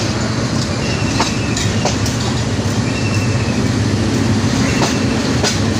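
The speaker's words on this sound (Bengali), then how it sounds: "নতুন ট্রেন শহরে প্রবেশ করেছে" Loud, continuous rumble of a new red-and-green train rolling past on rails, with rhythmic clickety-clack and brief metallic squeals from the wheels.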